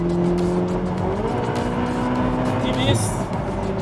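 Ferrari 488 Pista Spider engine pulling hard under acceleration, a loud continuous drone with rising pitch and a gear-change dip, close by and steady, with a voice talking over it.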